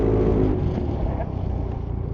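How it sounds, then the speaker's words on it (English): An Aprilia SR GT 400 scooter accelerates toward a van, its engine note rising steadily and loud, then easing as the front brake is applied hard, with wind noise throughout. "I'm going to accelerate towards that van and then bang the front brake on only"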